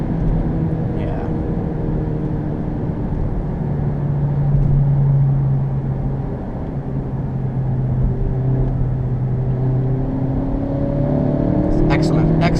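A 2017 Honda Civic Hatch Sport with a manual gearbox driving on the road, a continuous low engine drone and tyre rumble with shifting pitch, heard from inside the car with no talk over it.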